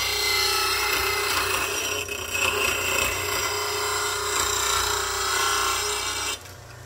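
A lathe gouge is ground on a slow speed grinder, a steady humming motor with a constant gritty grinding rasp that stops abruptly near the end.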